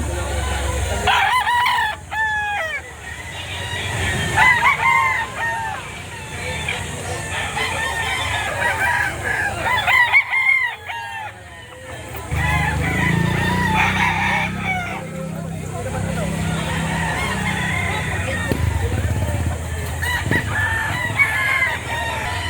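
Several roosters crow repeatedly at a gamecock sale in Lipa City, Batangas, their calls overlapping near and far over a steady crowd murmur while people talk in Filipino.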